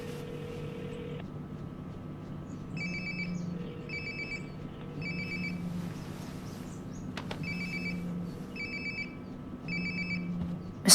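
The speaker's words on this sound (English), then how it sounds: "Sounds like my phone is" A phone rings in Life is Strange: Before the Storm, a repeating electronic ring in several regular bursts over a steady low ambient hum, with no talking.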